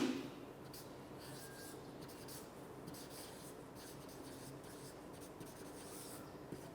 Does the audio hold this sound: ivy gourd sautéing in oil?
no